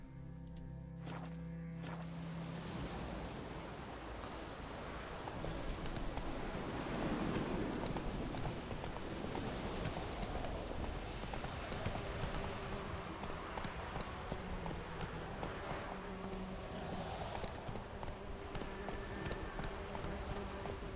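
In the video game Witcher 3, a horse gallops with a fast, continuous clip-clop of hooves, accompanied by a rushing wind-like ambience throughout.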